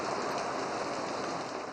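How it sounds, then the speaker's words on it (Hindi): Heavy monsoon rain pours down steadily over Lahore streets, a dense, even hiss of falling water with no breaks and no voices, loud and close throughout. "मुसलसल बादल बरसने से शाहराहें, गलियां और बाजार जेरे आब आ गए हैं"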